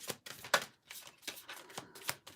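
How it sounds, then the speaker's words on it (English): A deck of tarot cards is shuffled by hand up close, producing a quick series of papery riffling bursts with brief gaps between them and no speech. "Let me just shuffle that again because they were stuck."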